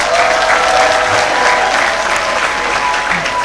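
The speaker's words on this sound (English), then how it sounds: "Give yourselves a big round of applause." Graduates at a College of Health Sciences congregation ceremony give themselves a round of applause, a dense, loud, continuous wash of clapping from a large crowd with no break.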